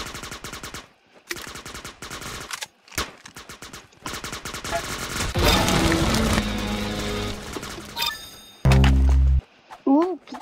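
Paintball gun firing in bursts of sharp, rapid shots alongside heavy talk, with a loud burst near the end.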